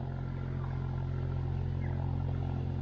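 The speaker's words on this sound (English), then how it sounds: "There's a boat behind me making boaty noises." A steady low engine drone with a throbbing hum runs continuously, like a motorboat idling nearby on a UK canal, with no talking.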